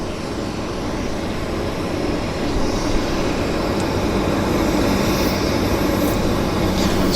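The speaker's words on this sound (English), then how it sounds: "we've got a Harbor Air passing above us" A Harbour Air floatplane passes overhead near Vancouver Airport, its steady engine drone filling the whole stretch at a loud, unbroken level with a slight swell midway.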